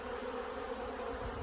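Bees crowd around extracted honey frames on a farm, working them clean after three boxes of honey were removed. They give a continuous, enveloping buzz heard up close with no voices.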